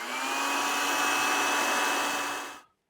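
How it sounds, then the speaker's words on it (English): A hair dryer blows in one continuous, even whoosh with a faint steady whine, close by, drying a painting, then cuts off abruptly just before the end. "I'm going to hit this with a hairdryer"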